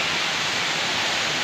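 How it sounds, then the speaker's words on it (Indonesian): Waterfall at Coban Canggu in Pacet, Mojokerto, roaring as a steady, loud, dense wash of falling water with no break and no voices. "mengeksplor air terjun Cangu Pajak Mojokerto"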